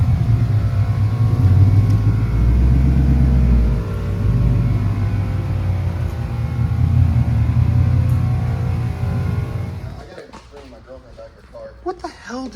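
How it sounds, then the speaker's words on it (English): An old car called Kermit drives with its just-repaired gearbox, a steady loud engine rumble that swells and eases, then drops away near the end as a voice speaks. "first time driving Kermit with a second gear pretty much in almost 2 years"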